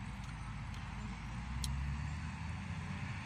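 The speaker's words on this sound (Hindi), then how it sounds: "ट्रैफिक बहुत ज़्यादा है।" Heavy road traffic flows through a busy roundabout in Muscat, Oman: a continuous low rumble of cars and larger vehicles passing, with faint brief hisses and clanks in the distance.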